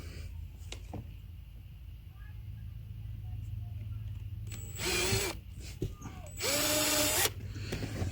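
A power drill bores a hole through a thick drip irrigation main line in a raised garden bed, with two short, close whirring bursts and quiet handling clicks between them.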